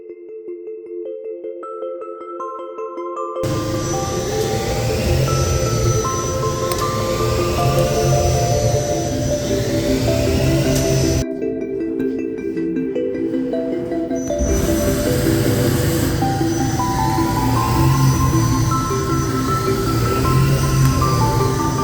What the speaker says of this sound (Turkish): Şimdi G94 çevrim örneğini CNC torna tezgahında çalıştıralım.